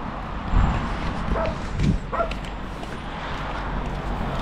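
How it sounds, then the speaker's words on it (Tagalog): A small scruffy dog named Blackjack at a house near a forest, giving a couple of short yips and barks close by over steady background noise. "Yun, malit na aso. Yun, si Blackjack."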